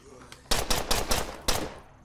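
Pistol fire in the zombie survival game State of Decay: several sharp, loud shots in quick succession, close and punchy, with a final shot after a short pause.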